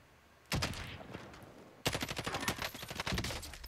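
Rapid gunfire in Warzone, a battle royale shooter: a short burst, a pause, then a longer sustained stream of automatic shots, close and loud.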